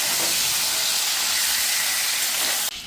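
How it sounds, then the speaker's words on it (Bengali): Fish bones fry in hot oil until crisp and red for a Bengali thali, giving a loud, close, unbroken sizzle that holds steady for about three seconds before cutting off abruptly. "গরম তেলে আমি মাছের কাটাগুলোকে দিয়ে দিয়েছি, এগুলোকে আমি একদম পুরো কড়া করে লাল লাল করে ভেজে নেব"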